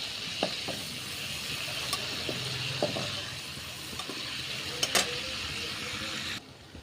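Prawns fry in hot oil in a pan, a steady broadband sizzle running throughout with a few brief clinks and scrapes from a utensil, then an abrupt cutoff near the end.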